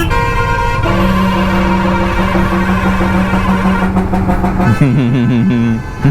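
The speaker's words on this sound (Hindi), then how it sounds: "नेशनल रोड की ट्रकों के हॉर्न का अंताक्षरी चल रहा है।" Loud, sustained truck horns blare on a national highway near Igatpuri, one long steady tone followed by a different wavering horn near the end, close and overlapping with traffic rumble.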